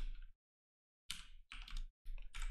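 Computer keyboard typing JavaScript code, quiet close-up bursts of quick key clicks separated by short silent pauses, with no talking.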